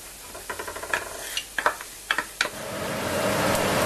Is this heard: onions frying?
yes